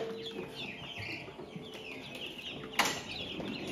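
Chicks and ducklings clucking and peeping in a busy, continuous chorus close by, with a short sharp flutter or scuffle near the end.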